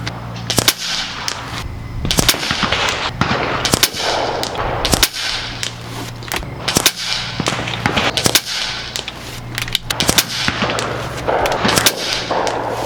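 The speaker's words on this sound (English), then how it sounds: "we're gonna continue shooting. Let's continue with the 24 grain." A Nova Liberty air rifle fires 24-grain AVS slugs at a 100-yard range, each shot a sharp crack in an irregular series of more than a dozen, set against a low steady hum.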